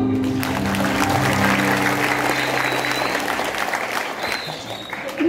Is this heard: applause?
yes